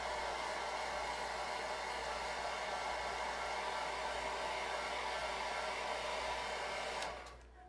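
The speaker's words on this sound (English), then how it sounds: "So I'm just going to hit this with a hairdryer real fast." A hair dryer blows steadily at close range to dry black paste, a continuous loud whoosh that runs unbroken for about seven seconds before cutting off and winding down.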